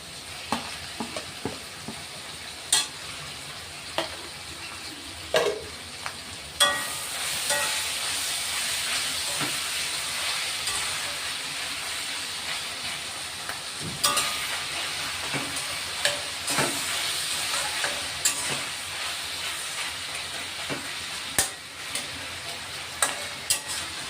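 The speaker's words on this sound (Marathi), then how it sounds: "कांदे थोडे लालसर झाले तर आता आपण टोमॅटो टाकून घेऊ" Onions frying in a pan with garlic and ginger for a Khandeshi kurdai vegetable dish, a steady sizzle and hiss with sharp stirring clatters and a louder burst of frying as tomatoes go in, running alone with no talk.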